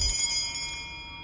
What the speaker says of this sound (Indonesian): Bunyi lonceng yang mengancam langsung memicu rasa bahaya.